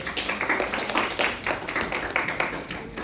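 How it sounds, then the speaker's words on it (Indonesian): Classmates clap for a group's presentation on a social project about BISINDO sign language, a moderately faint, continuous patter of several hands with a fairly even rhythm, no talk over it. "Boleh tepuk tangan teman-teman"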